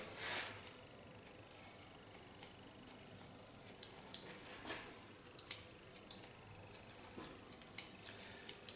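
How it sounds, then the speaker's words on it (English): Thinning scissors snip through hair during a pixie cut, with quick irregular crisp metallic clicks, faint and close, continuing alone without talking. "It's an 8 thinning scissor."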